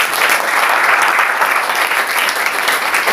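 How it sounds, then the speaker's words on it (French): Steady, dense applause from a large church congregation, loud and sustained throughout with no pauses. "Applaudissons pour le Seigneur."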